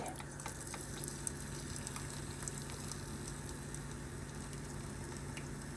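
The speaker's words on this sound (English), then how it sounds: "put a few of the potatoes onto your pancake turner and drop them in like so" Potatoes for vegan sausage poutine slide from a pancake turner into a pan of hot frying oil, which gives a steady close sizzle and bubbling under light crackle throughout.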